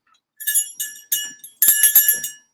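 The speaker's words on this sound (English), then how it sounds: "This is the bell." A small bright bell is struck several times, with three separate dings followed by a quicker cluster of four. The rings are close and clear, each fading fast, with no talking.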